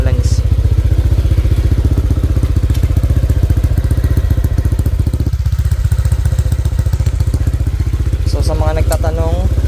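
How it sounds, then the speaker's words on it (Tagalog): Honda Click 125 scooter with a 160cc engine idling to warm up, a steady close, loud low-pitched putter running throughout with some faint voices in the background. "Painitin lang natin siya ng mga 5 minutes para ma-circulate yung langis."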